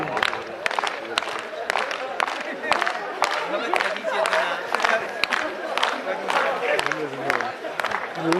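A crowd at a winter snow festival futsal match in Shigar claps in quick, dense bursts of applause, with voices talking over it throughout.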